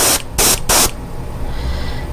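An airbrush-style paint spray gun at roughly 30 to 35 psi, used on a small fishing lure, lets out three short, sharp bursts of hissing spray close up, followed by quiet background noise.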